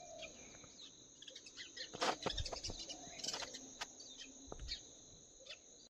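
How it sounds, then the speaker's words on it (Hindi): Faint birds chirp in short scattered calls against a steady high insect drone, quiet and distant, with an occasional louder chirp. "सिर्फ चिड़ियाओं की आवाज़ है"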